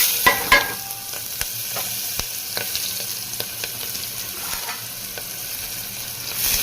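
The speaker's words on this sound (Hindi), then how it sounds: "काटी थिबा पियाज पकेबा" Chopped onions fry in hot oil with cumin, mustard seeds and bay leaf for a soybean and potato curry, giving a steady close sizzle punctuated by sharp crackles and stirring clicks.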